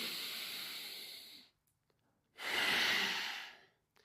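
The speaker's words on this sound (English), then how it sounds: "really make those breaths long and deep" Long, deep breaths during a kundalini yoga exercise, a steady airy exhale of about a second and a half, a short silence, then another full rushing breath, close and clear with no talk.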